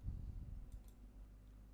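Two faint quick mouse clicks in close succession placing an online order, under a low steady hum with no talk.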